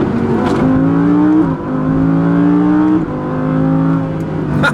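An Audi R8 V10 Plus launches hard from a standstill, engine howling up through the revs in three rising pulls separated by quick gear changes, loud and close with no talking.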